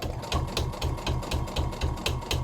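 Sewing machine with a denim needle stitching binding on a fabric cup organizer, a loud, fast, steady mechanical chatter with rhythmic needle knocks repeating about every quarter second, close by and without speech.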